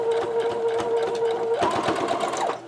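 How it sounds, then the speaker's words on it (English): Close, steady whir of a sewing machine stitching a lock stitch on a quilt block, running continuously with a rapid needle rhythm and a brief shift in pitch partway through, no voices. "I am going to do a lock stitch on this."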